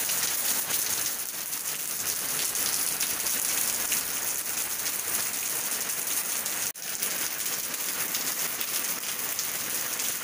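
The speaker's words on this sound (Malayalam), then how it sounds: "എല്ലാം മഴയാണ്." Heavy rain pours steadily onto surfaces near a home kitchen garden, a dense, loud, unbroken hiss of drops that continues without pause and without speech.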